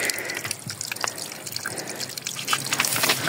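River water gushing and gurgling as it drains away beneath a rock into a sinkhole, a steady close rush with splashing trickles and drips throughout.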